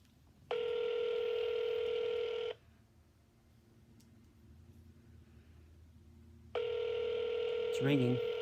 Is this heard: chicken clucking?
no